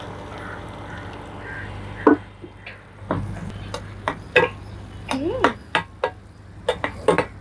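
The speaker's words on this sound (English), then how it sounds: "The onions pop a lot." Slit green chilies and onions tossed into hot seasoning with soaked Bengal gram for brinjal rice, giving scattered sharp pops and crackles that burst irregularly over a low steady background hiss.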